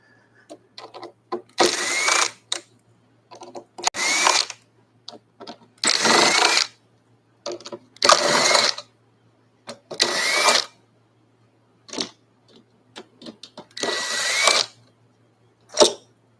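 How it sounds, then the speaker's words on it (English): A power tool buzzes in repeated short bursts while removing a part from a fuel tank, about eight loud whirring pulses separated by brief pauses and small clicks, close by. "we'll use power tool to remove."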